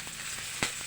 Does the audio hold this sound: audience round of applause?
no